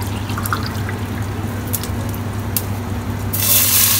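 About four and a half glasses of water pour into a pot for prawn biryani rice, a close steady splashing with faint drips that swells louder and brighter near the end.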